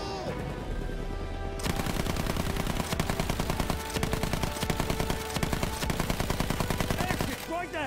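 Sustained machine gun fire in a World War I bomber video game aimed at a German airship, a loud, rapid, steady rattle running for several seconds after a brief quieter opening, ending abruptly.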